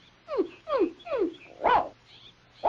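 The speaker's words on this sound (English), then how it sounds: "And your nice dog, Paddlefoot." A cartoon dog gives a series of short, sliding whines and yelps, four or five quick descending calls followed by a louder bark-like cry, close and clear with no talk.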